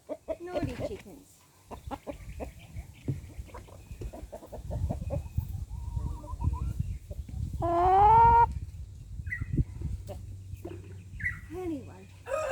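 Backyard chickens cluck and squawk in a run beside a guinea fowl incubator, with several bursts of calls and one louder squawk near the middle, mixed with low rustling and handling noise close to the microphone.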